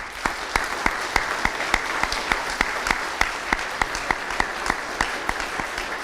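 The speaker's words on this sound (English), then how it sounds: "So just one quick applause for Coach Peters." Audience at a school fall sports assembly claps for a coach, sharp steady claps in an even rhythm sustained over a hall-filling wash of applause, loud and close throughout.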